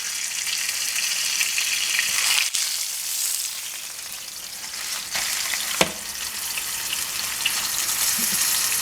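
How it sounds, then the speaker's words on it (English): Chuck roast searing in a hot pan, a dense continuous sizzle and crackle with a couple of sharp pops and clatters, steady and close, no speech. "we got a nice little sear starting on the chuck roast"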